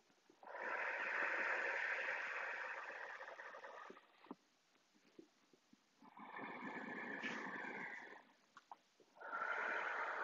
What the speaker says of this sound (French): Vous allez pouvoir faire 3 grandes respirations profondes